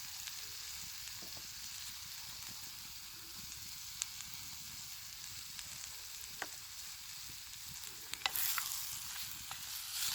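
Goulash ingredients fry in a pan with a steady, close sizzle, with a few sharp stirring clicks scattered throughout and no talking.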